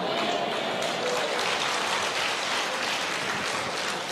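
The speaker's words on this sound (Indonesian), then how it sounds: "Nggak usah tepuk tangan." A church congregation claps together in a steady, dense wash of applause that runs unbroken at an even, fairly loud level from start to finish.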